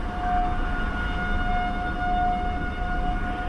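A civil defense tornado siren wails during a storm near Dallas, Texas, as one steady, sustained drone that holds strong and even throughout with no voices over it.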